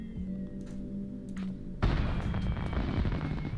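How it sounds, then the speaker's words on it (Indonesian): In a light video game, a deep rumbling explosion hits abruptly partway through and keeps rolling as a dense, booming roar after a lower mechanical drone. "Apaan nih meledak-ledak?"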